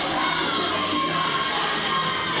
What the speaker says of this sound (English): His crowd's in a ruckus here.